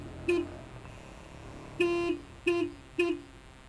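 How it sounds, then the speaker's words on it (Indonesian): Four short horn beeps from a Honda PCX 150 scooter, one longer and three quick ones, sounding close against a faint background hum. "Klaksonnya seperti ini ya."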